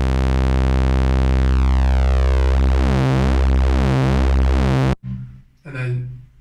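A Moog synthesizer plays a dense, buzzy sustained tone with phasing sweeps running through it for about five seconds. It then cuts off sharply and a voice speaks briefly.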